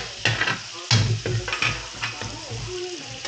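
Garlic sizzles as it goes into the hot pan, with bursts of crackling frying and clinks and scrapes of stirring against cookware.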